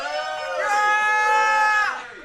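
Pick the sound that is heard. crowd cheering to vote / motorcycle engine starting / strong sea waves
crowd cheering to vote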